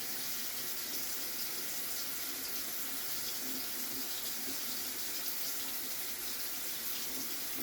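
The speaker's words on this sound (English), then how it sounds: "while the water runs to get hot" A kitchen tap runs steadily while the water heats, a continuous, even hiss of flowing water with no break and no voices.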